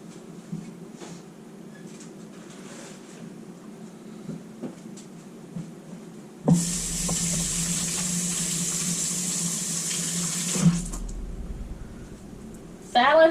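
Tap water running while hands are washed at a kitchen sink, a steady rushing hiss that starts abruptly midway and stops a few seconds later, following a stretch of quiet kitchen clatter.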